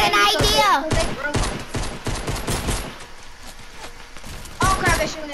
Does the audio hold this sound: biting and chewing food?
no